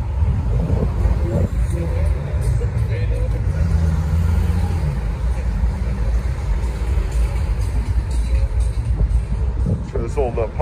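Classic cars such as a 1948 Chevy coupe with fender skirts and an old Pontiac Catalina lowrider cruise past at a street cruise night, a steady low engine rumble with passing traffic, and voices chatting over it throughout.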